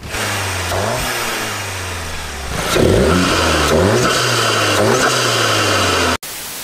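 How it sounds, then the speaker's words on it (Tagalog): A car engine fitted with an aftermarket cold air intake revs up and down repeatedly, each rise climbing in pitch then falling back to idle, loud and close, cutting off abruptly near the end. "Tapos nagiging mas maganda yung tunog ng makina."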